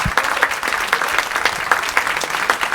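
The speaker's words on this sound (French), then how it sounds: "Je crois qu'on peut les applaudir très fort." An audience claps for high school students, a fairly close, steady stream of individual hand claps with a loose rhythm, lively and continuous throughout.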